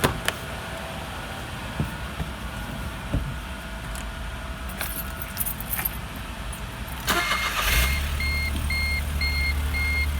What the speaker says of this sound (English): See the car starts.